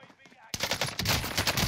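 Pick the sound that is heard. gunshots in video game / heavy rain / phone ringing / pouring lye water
gunshots in video game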